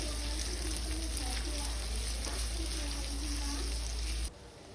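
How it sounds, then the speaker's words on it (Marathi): Finely chopped onion frying in oil after garlic, a steady close sizzle and crackle that holds for several seconds and then cuts off abruptly, with some speech over it. "कांदाही तेलावर व्यवस्थित असा शिजवून घ्यायचा आहे"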